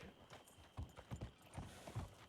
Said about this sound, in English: Who called for that horse?